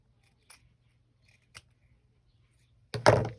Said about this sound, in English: what I'm going to do is trim these off